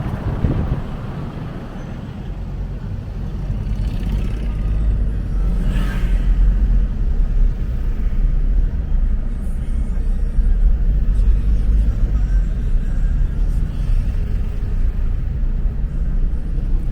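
Steady low rumble of heavy street traffic in Koreatown, Los Angeles, a continuous dense wash of engines and road noise with no clear single vehicle standing out.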